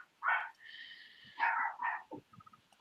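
Dogs bark in a home, a series of sharp barks with a whining yelp drawn out between them, followed by softer yips, moderately close in a quiet room.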